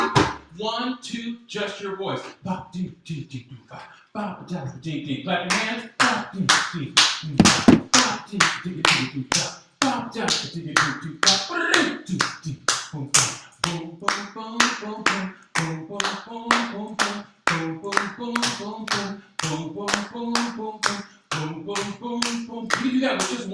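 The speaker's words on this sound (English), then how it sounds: "Clap your hands." A group of people clapping hands in a steady repeated rhythm, loud and close, with a voice talking over parts of the clapping.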